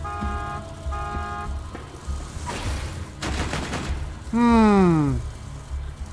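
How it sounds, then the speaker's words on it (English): Car horn honks in the video game Borderlands 2: a steady tone early, then a noisy burst and a loud falling horn blast near the end, set against game noise. "I'm gonna honk this horn one more time"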